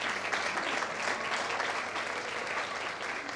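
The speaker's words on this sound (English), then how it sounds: "without our dietitians, Hannah and Suzanne, so if we give them a really big clap and a round of applause." Hospital staff give their dietitians a round of applause, a dense, steady clapping from a sizeable crowd that carries on evenly from start to finish.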